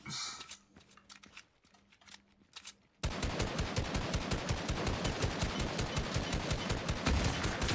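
Rapid gunfire in a first-person shooter video game, a loud, steady stream of shots that bursts in suddenly after a quieter stretch and keeps going to the end.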